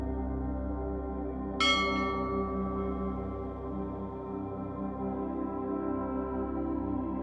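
A single bell is struck once and rings out loud, a bright attack that fades into a long, sustained shimmering tone, heard against a steady low drone with no voices.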